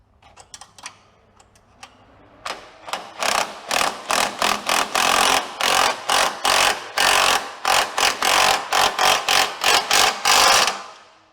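A 13mm bolt on a Jeep JL Wrangler high-line fender brace is tightened with a ratchet: a few faint clicks, then a loud, close run of about twenty rhythmic ratcheting bursts at a steady pace.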